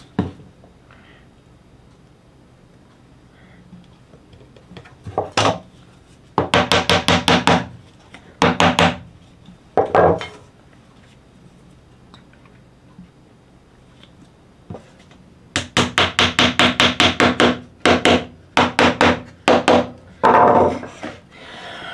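Dowel rods being tapped into glued holes in a scrap wood key rack, heard as clusters of sharp, close wooden knocks in quick bursts separated by quiet pauses.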